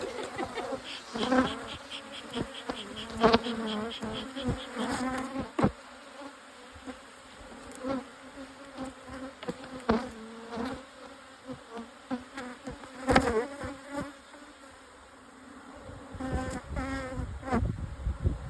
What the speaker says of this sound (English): Do you hear the buzzing of bees in your sleep?